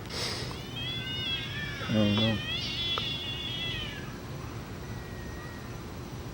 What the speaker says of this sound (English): There's a cat giving birth out there